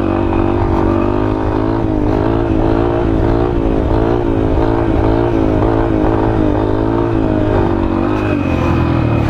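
A small Honda Fan motorcycle engine revs loudly and steadily during a wheelie, its pitch wavering up and down in repeated pulses, close to the microphone with no talking.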